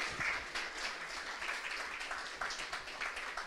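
Church congregation applauding the Lord during a worship service, steady dense clapping of many hands throughout, fairly loud and continuous with no talk over it.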